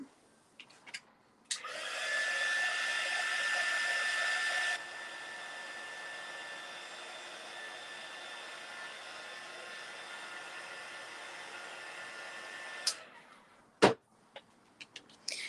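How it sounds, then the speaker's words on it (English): A small air dryer blows steadily on acrylic paint on a pumpkin for about eleven seconds, louder at first then settling into a constant whirring hiss before clicking off. "I'm going to dry this with a little air dryer, so you can hear some noise for a second."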